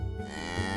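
A cow lets out a short, low moo, close and fairly quiet, heard alone.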